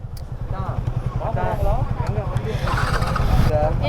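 Kawasaki ZX10R motorcycle engine at an ECR road wheelie run: a loud, close, steady rapid engine pulse throttling up gradually over a few seconds, with people talking over it.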